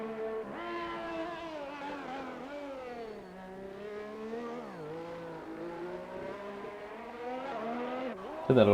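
A Haas Formula 1 car engine in a racing video game, on the Belgium circuit, whines loudly and continuously, its pitch sliding up and down through gear changes, with a sharp burst right at the end.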